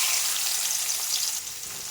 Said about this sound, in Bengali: এবার বেরেস্তার জন্য কিছু পেঁয়াজ ভেজে নিচ্ছি।